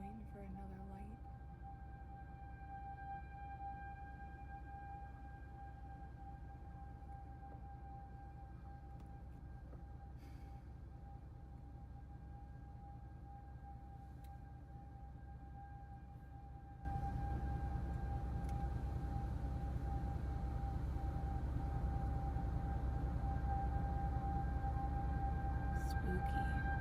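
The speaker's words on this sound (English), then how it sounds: "that tornado warning, or that siren." A distant outdoor tornado warning siren rises and holds as a sustained, wavering tone over low background rumble. It grows louder partway through.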